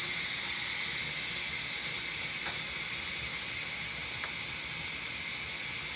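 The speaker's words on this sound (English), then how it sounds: "So I'm gonna release the steam." A pressure cooker vents steam after cooking butter chicken, a loud, steady hiss that bursts in after a second and holds strong and continuous to the end, with a couple of faint clicks underneath.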